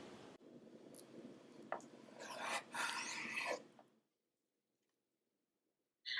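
A very sharp knife slicing sushi-grade salmon into sashimi pieces on a cutting board gives soft, close, wet squishing and rasping strokes for about four seconds, then silence.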